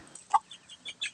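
Rhode Island Red hens and a rooster on a small egg-laying farm, a few short clucks and soft calls spaced irregularly, fairly close and alone.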